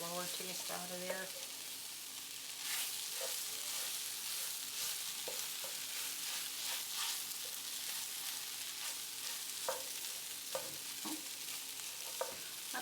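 A flour mixture for beef and noodles sizzles and fries in a pan, a continuous soft hiss with occasional stirring clicks and scrapes, fairly quiet and with no one speaking.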